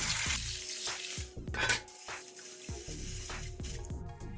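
Water splashes and gurgles into a bowl of dry red beans set to soak, a close, uneven pour with sloshing bursts and small knocks, fairly quiet and with no speech.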